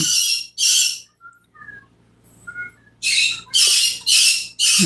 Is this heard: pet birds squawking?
yes